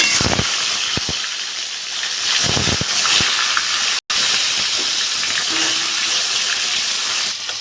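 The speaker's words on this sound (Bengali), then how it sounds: "তেলটা গরম হয়ে গেছে মাছগুলো ভেজে নেব" Pieces of pona fish hiss and spit steadily in hot mustard oil in a kadai, a dense, close sizzle with a few sharp crackles and no talk.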